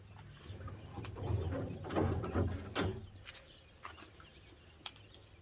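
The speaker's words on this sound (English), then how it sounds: "here's our baby quail pen" Baby quail in a pen give soft cooing, chirping calls mixed with low rustling, louder in the middle stretch and fading to scattered faint peeps, close by with no talking.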